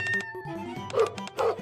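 Dogs in the NIKKE video game bark and yip in short bursts against a tonal game music backdrop, with a couple of louder, closer yelps near the end.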